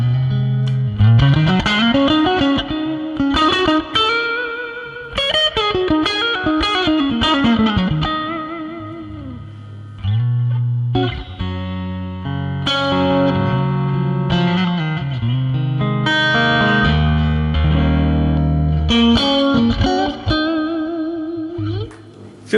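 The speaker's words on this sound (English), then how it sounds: "Some fairly raunchy blues tones," Raunchy blues electric guitar played through a Fractal Axe FX in big Fender-style tones: a continuous stretch of distorted, reverberant single-note lines and chords, loud and close, with no talking.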